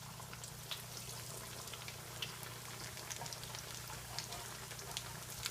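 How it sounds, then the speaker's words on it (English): Food dropped into hot oil fries with a faint, dense crackle and scattered small pops, steady throughout and fairly quiet. "I'm going to drop these in the oil"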